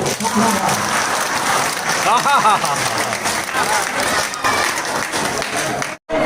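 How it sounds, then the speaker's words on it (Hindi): Devotees on a pilgrimage in Nandgaon and Barsana clap loudly together for God, a dense crowd of hands under chanting and talk, cutting off abruptly near the end. "और एक बार जोर से भगवान को ताली मार के हंसाओ"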